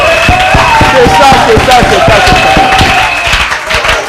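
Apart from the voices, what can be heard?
congregation applauding and acclaiming the Lord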